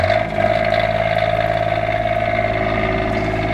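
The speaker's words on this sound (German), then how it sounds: "Das ist ein Dreizylinder Kubota, also schon ein ganz schön fetter Motor." Three-cylinder Kubota diesel engine of a generator on a 2003 Holiday Rambler Imperial motorhome, running at a steady, loud idle with a constant hum and no talk.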